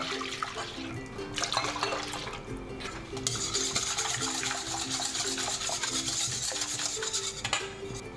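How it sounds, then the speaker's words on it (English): Cold water poured from a container into a large bowl of beaten eggs for takoyaki batter, a continuous close splashing and gurgling pour lasting several seconds, with occasional light knocks against the bowl. "And 1 liter cold water."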